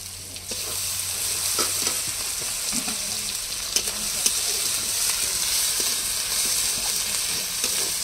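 Onions frying until reddish-brown with ginger and cumin paste added, a steady sizzle in the pan with occasional stirring clicks and scrapes throughout.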